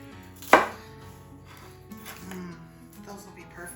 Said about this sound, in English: So I'm just gonna cut these in, I guess give them in quarters-ish.